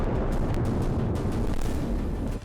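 A loud, deep explosive rumble from a blast in Gaza roars continuously, with sharper bursts flaring within the heavy low boom.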